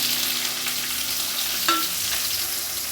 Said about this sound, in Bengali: ফোড়নটা হয়ে গেছে, এবার আমি পেঁয়াজটা দিয়ে দেবো।